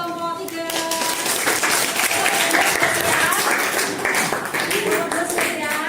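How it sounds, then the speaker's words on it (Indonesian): A classroom group gives a round of applause for a presenting team, with steady, fairly loud clapping from a small crowd that runs throughout, while voices chatter underneath. "Oke, beri tepuk tangan untuk kelompok 3."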